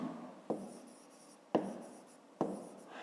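A pen scratches across paper in three quick strokes, each starting with a sharp tap and trailing off into a soft scrape, close and quiet during a maths exercise.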